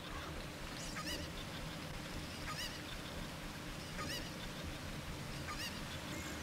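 A chicken in the video game Zelda: Ocarina of Time Master Quest makes repeated squawking clucks, roughly once a second, over steady game background noise.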